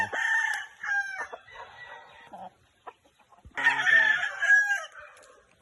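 Backyard-bred gamefowl roosters crow and cluck nearby, one long crow followed by softer clucks, a quiet gap, then another loud crow with clucking.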